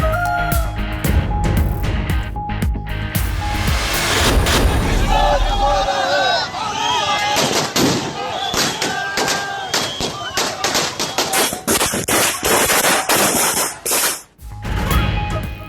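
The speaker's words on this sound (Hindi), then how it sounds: "श्रीनगर में शहरियों ने जश्न मनाया, आतिशबाजी का मुजाहरा भी किया" Fireworks go off at a celebration in Srinagar, with repeated booms and crackling bursts over a dense, noisy crowd. Voices are heard throughout.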